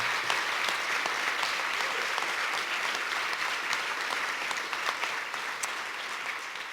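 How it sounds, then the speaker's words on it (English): Steady applause from an audience at an awards ceremony for staff attorneys of the Los Angeles Innocence Project, dense and sustained throughout without a pause. "I would like to give a round of applause to our amazing staff attorneys at the Los Angeles Innocence"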